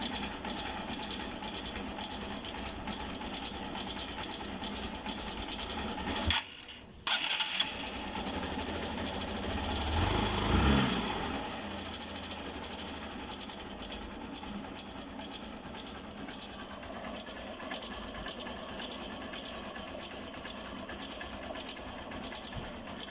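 A Hero Eco 150 motorcycle with an oil leak runs close by with a rapid, rattling knock, the engine briefly dipping and surging mid-way before settling into a steady clattering idle.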